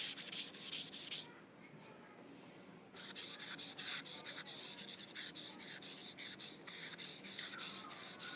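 Charcoal smudged and blended on paper, a close, soft rhythmic rubbing and scratching in repeated strokes with one short pause.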